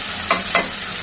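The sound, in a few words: stirring spices into raw banana curry in pan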